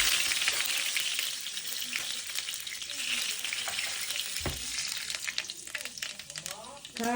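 Steady, close sizzling and crackling of hot oil as fenugreek seeds and mustard seeds fry, with occasional stirring scrapes and clinks throughout.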